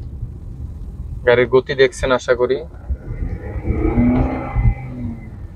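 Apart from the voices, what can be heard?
Nissan X-Trail hybrid engine noise while driving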